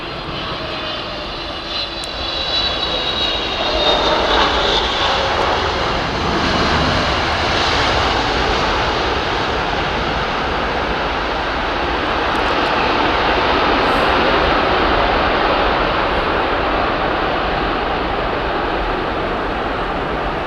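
An Eva Air airliner arriving, its engines a loud, steady broadband roar that holds throughout with a slight swell midway, no voices over it.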